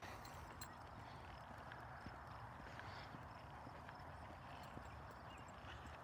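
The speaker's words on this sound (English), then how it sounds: "And there's the horses." Horses in a small pasture at sunset in Idaho, faint clopping and movement buried in a steady outdoor hiss of crickets and breeze.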